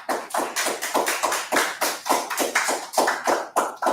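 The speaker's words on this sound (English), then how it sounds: "let's give her a warm round of applause" An audience at a lecture gives a welcoming round of applause, the claps arriving loud, crisp and evenly spaced in a quick, steady rhythm.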